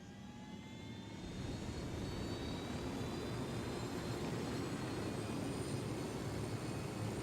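A steady, droning aircraft engine roars continuously while piloting in the video game Ghost Recon Wildlands, a dense, even rumble rising slightly at the start and then holding constant with no speech.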